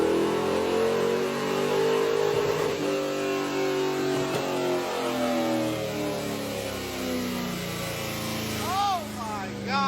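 A car engine on a dyno revs hard in second gear, a loud sustained roar that climbs steadily in pitch, then eases off with a brief rising whine near the end.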